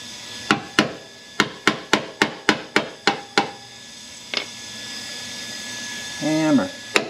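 Hammer knocking a dent out of a car fender during patch welding repair: about ten sharp metallic blows in a quick, even rhythm, a lone later strike, then a short burst of talk.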